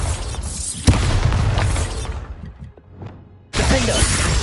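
Bombarda blasting spell going off in Hogwarts Legacy: a sharp shattering crack followed by a loud, sustained rumbling blast that decays, then a second burst of heavy debris noise.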